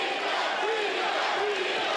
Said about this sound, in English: Crowd now getting behind Dricus.